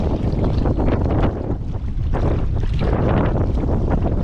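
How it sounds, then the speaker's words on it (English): Strong wind gusting over a lake during kayak fishing, a loud, steady rumble and buffeting against the microphone without any break. "I hope y'all get a lull in the wind for about 5 minutes."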